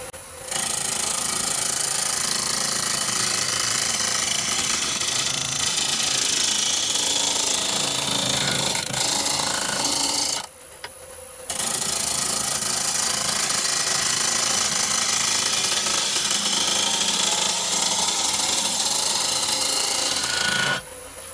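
Wood lathe turning a bowl blank mounted on a faceplate, the gouge rounding off the blank with a loud, steady rough cutting roar that breaks off briefly midway, then resumes without talk.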